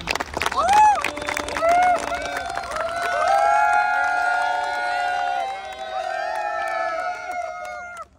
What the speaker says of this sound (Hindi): मैं जरूर चाहूंगा एक बार तालियां